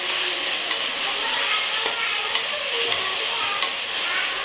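Tomatoes and green chili stirred in a hot frying pan: a steady bright sizzle runs throughout, broken by a few light spatula taps against the pan, close and loud with no talking.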